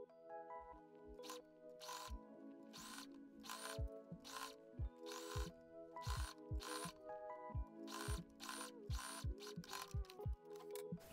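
A sewing machine stitches a folded fleece seam in short, rhythmic bursts of mechanical whirring and clatter. The stitching stops and starts several times, with soft thumps from the needle between runs, all heard close up and quietly.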